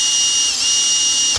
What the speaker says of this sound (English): Actually are a nice wee drill.